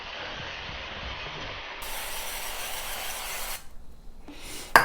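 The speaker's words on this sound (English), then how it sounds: "Love this cooking spray." Cooking spray hisses steadily into a small baking tin for several seconds, close and fairly loud, with a brief pause and faint handling sounds near the end.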